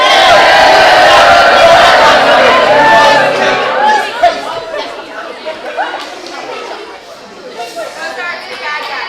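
Melodrama audience booing the villain, a loud sustained crowd of voices at first that breaks into scattered shouts and chatter as it dies down.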